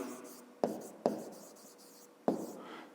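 Handwriting on paper during a fifth-grade maths lesson: soft scratchy pen strokes run through a quiet room, broken by three sharp taps around 0.6, 1.1 and 2.3 seconds.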